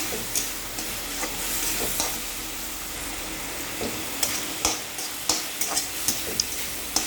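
Assamese thonthoni greens fry in a pan with a steady sizzle, while a utensil stirs and scrapes in sharp taps toward the end.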